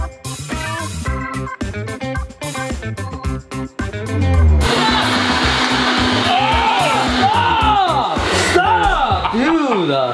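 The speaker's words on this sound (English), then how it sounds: "We have the fan, we have the blow dryer, we have this little hand fan." A blow dryer and fans dry latex special-effects Halloween makeup, making a steady, loud rushing whoosh that runs unbroken through the second half under overlapping chatter, laughter and excited voices.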